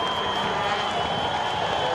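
Baseball stadium crowd at an Oakland A's home game against Tampa Bay rises and cheers with a steady, dense roar and scattered applause, full and continuous throughout.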